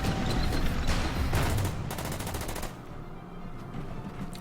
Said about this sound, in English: So I might just use the Panzer, although that would probably wake up the steward. But I'm gonna take a shot at that AA gun.